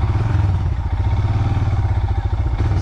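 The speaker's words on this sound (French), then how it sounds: "la moto elle n'arrive pas à aller droit" Royal Enfield Himalayan motorcycle struggling through slippery mud, a loud close single-cylinder engine thumping at steady low revs with a rhythmic pulse and some clatter.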